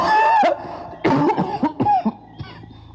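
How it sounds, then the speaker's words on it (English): Several close coughs follow a spoken voice, coming in short uneven bursts before fading into quiet. "grandfather coughed"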